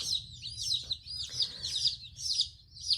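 Baby chicks from Cackle Hatchery peep in a continuous overlapping chorus of high, quick chirps, close and fairly soft over a low background hum.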